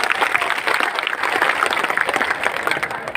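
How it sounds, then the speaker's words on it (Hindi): Large crowd at a state-level Birsa Munda Jayanti gathering bursts into loud, dense applause, a continuous roar of clapping that holds steady throughout. "उन कार्यकर्ताओं के लिए जोरदार तालियां बजाओ"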